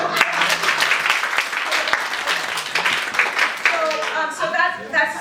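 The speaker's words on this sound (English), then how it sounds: "give it a nice round of applause" An audience at an improv comedy show breaks into a steady, dense round of applause, with voices and cheering rising through the clapping toward the end.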